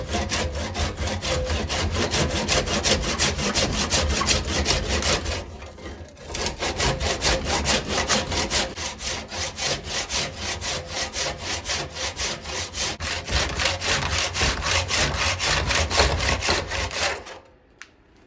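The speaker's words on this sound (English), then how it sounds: "I'm going to cut it off using this handsaw, and I'm going to try and keep it as straight as possible." A handsaw cutting a cherry burl wood bowl off the lathe, with rapid, steady back-and-forth rasping strokes, close and loud. There is one brief pause partway through, and the sawing stops abruptly at the end.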